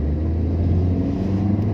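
A 2005 Honda Civic VTi S engine accelerates under light throttle, a loud, steady low rumble heard from inside the car with no talk.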